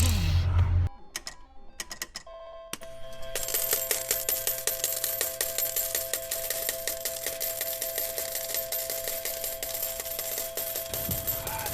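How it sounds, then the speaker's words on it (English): A slot machine takes a coin and has its handle pulled: sharp metallic clinks and mechanical clacks come in the first few seconds, then a steady rattling, ticking whirr with humming tones runs to the end. "let's go ahead and start that slot machine up, drop the coin in, pull the handle"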